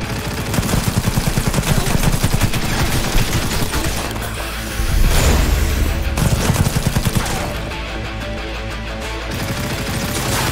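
Smart gun fire in Cyberpunk 2077: long, loud, rapid automatic bursts with heavy thuds mixed in, firing almost nonstop with only brief letups, and no talk.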